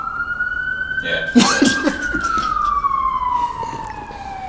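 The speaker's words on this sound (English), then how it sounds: "because the police car was passing" A police car siren wails loudly as it passes, its long sweeping tone rising and then falling away. A person speaks briefly over it.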